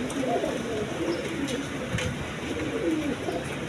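Pigeons kept for sale coo in soft, repeated throaty phrases close by, over a steady background hiss, with no one speaking.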